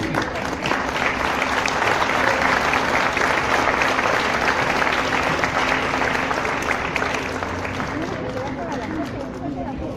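Sustained audience applause fills a tribute event hall, loud, dense and steady throughout, with a faint murmur of the crowd beneath and a slight easing toward the end.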